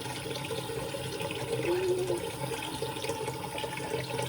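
Running tap water flows steadily into a sink while a face is rinsed during an at-home facial, a continuous close splashing wash with no talking.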